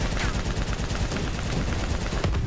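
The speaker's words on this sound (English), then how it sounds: "Oh, we got explosive bullets." Explosive-round gunfire in the Black Ops 3 campaign, a steady, dense stream of rapid automatic shots with a heavy low thump, continuous and loud throughout, with faint talk underneath.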